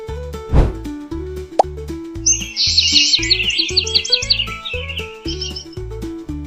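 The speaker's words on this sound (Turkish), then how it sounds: "Ben bir kuşum. Uçabilen bir hayvanım." Cartoon bird chirps, a bright twittering run of calls from a flying, colourful bird, set over bouncy children's music with a loud plop near the start.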